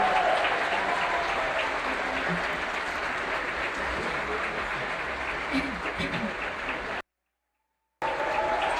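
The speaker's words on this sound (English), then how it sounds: "Please give him a round of applause." A large audience at the UNWDF 2024 closing ceremony in Medellín claps in a dense, sustained roar of applause that cuts off abruptly to silence for about a second, then resumes.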